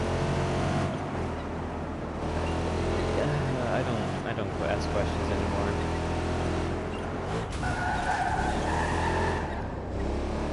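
In the Watch Dogs 2 video game, a hacked car engine runs at speed with a steady engine roar, tire skids and squeals, and loud game noise, while someone talks over it.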